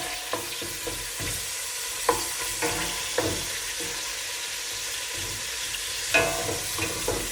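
Onions frying in a pan for a fennel tajine, a steady soft sizzle with occasional sharper pops and scrapes of stirring, close and continuous without talk.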